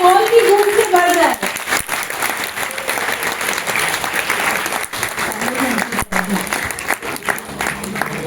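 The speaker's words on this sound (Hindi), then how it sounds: "तालियां इतनी जोर से होंगी ये हॉल की गूंज से भर जाए।" Applause from an audience filling a school hall at a Republic Day event, sustained dense clapping for about eight seconds with a brief voice at the start and hall echo throughout.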